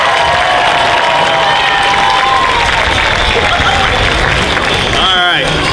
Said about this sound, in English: Ladies and gentlemen, give a round of applause.